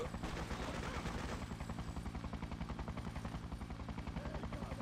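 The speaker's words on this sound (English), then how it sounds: "there's also a chopper which is just consistently dropping down" A helicopter in the video game Freedom Fighters hovers in a Manhattan warehouse district, dropping reinforcements, its rapid rhythmic rotor thumping steady and continuous at low volume, alone without talk.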